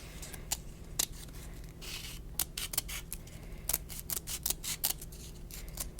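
Crisp, close scissor snips repeat in an uneven series during an ASMR hair-styling role play, with no talking over them.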